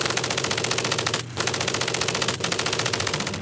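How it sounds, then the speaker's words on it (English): A German MG-42 machine gun fires in long, extremely rapid bursts, a loud, dense ripping roar broken by one short pause and a brief dip. "MG-42 machine gun."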